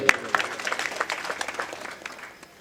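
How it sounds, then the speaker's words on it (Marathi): Audience applause at a comic kirtan in Nagpur, a short burst of many hands clapping together that rises quickly, stays dense for a couple of seconds, then thins and fades out. "त्याच्या नावाने टाळी वाजवा एकदा"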